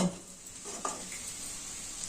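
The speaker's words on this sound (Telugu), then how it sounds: "ఈ ఆనియన్ వేసి కలిపేసేయాలి ఇప్పుడు వేస్తానండి" Onions drop into a hot frying pan and are stirred, giving a steady close sizzle with scraping stir sounds and a light clink of the pan.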